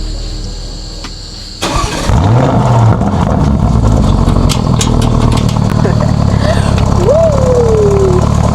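An engine cranks and catches with a burst, then settles into a steady idle as a person talks over it.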